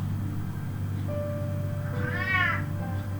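A cat meows once, a clear drawn-out call rising and falling near the end, over a steady low background hum.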